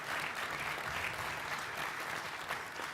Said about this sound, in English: how about a round of applause for the taxpayers